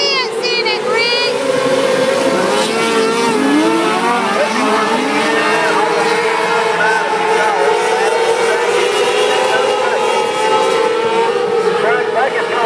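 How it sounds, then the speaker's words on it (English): Race cars with 600cc Yamaha engines run laps at a speedway, their high revving drone steady and loud throughout as a commentator talks over the action. "Toby also running a Yamaha in that machine. It's a 600."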